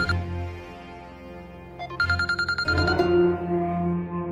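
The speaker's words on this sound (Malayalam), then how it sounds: "മനോജിന്റെ ഫോണിൽ ഇത് ആരായിരിക്കും വിളിക്കുന്നത്?" A mobile phone rings with a melodic ringtone in a domestic drama scene; sustained tones swell into a brighter, pulsing burst midway, then settle back under a musical background.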